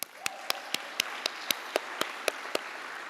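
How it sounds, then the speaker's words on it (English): An audience at a union health and safety conference applauds with steady, fairly faint clapping, and sharper individual claps stand out at regular quarter-second intervals. "Give yourself a big clap."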